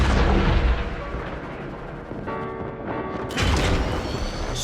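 A cruise ship's reactor detonates in the Warframe space battle, a loud heavy boom that rumbles and crackles for several seconds, with a second burst of blast noise swelling near the end.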